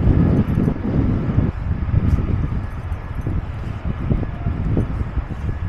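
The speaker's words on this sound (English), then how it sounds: "The wind's picking up." Wind gusts steadily outdoors at Canary Wharf, a loud, continuous low buffeting rush across the microphone with rustling texture and no clear pauses.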